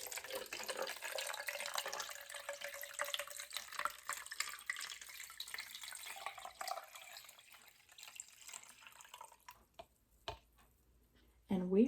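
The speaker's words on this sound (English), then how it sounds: "I'm going to pour a bunch of water on her." Water pours into a container in a fairly quiet splashing stream that tapers off, followed by scattered drips and small knocks near the end.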